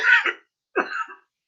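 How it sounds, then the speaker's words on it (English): Two short, sharp coughs from a person, loud and close, separated by a brief silence, with the start of a third at the end. "That wasn't a sickness cough."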